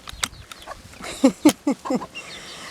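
Chickens cluck just outside their coop, a run of four or five close, throaty clucks in quick succession after some lighter scratching and peeping.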